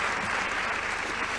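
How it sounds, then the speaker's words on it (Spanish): Audience applause at a national social work congress in Argentina, a dense, steady wash of clapping that holds evenly loud for the whole moment. "esa persona es Beatriz Cruces de Sade, para quien sí pido un aplauso"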